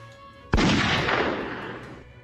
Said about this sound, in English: you hear a shot ring out suddenly. Boom!